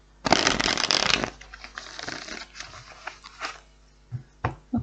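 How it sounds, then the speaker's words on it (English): Tarot cards are shuffled in a loud riffling burst lasting about a second, followed by softer scattered card shuffles and taps close to the microphone. "All right, last shuffle."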